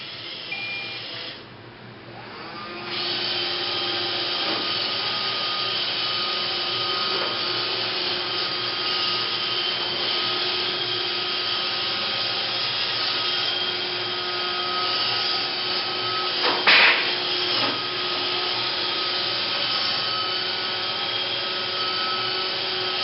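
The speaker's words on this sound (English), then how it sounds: "An iRobot vacuum" An iRobot robot vacuum cleaner runs nearby with a steady whirring motor drone that holds for over twenty seconds, broken by a few faint knocks and one brief louder clatter.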